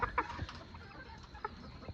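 Old English Game Bantam chickens cluck in a barn, with a few short, close calls scattered over a quiet, steady background hum.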